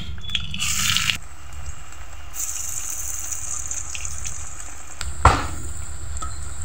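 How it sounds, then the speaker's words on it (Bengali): Moringa leaf fritters made with ground chickpea lentils fry in hot soybean oil, a steady hiss and sizzle with sharp bursts as pieces go in and are turned. "এভাবে সুন্দরভাবে বড়াগুলো দিয়ে গরম তেলে ভেজে নিতে হবে।"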